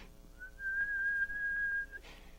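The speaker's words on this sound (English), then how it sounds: "she heard the faint answering whistles outside" A single sustained, clear whistle held for about a second and a half, fairly distinct against a quiet background.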